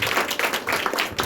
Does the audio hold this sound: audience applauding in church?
yes